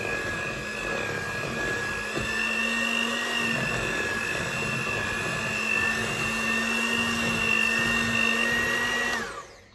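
Electric mixer running on speed 1 while beating cookie ingredients for German peanut cookies: a faint, steady motor whine with a constant hum that holds for about nine seconds, then winds down and stops at the end, no talking.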